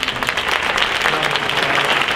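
An audience at a legislative breakfast applauds a panel of speakers, dense, even clapping filling the room for a couple of seconds.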